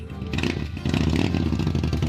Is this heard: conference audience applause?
no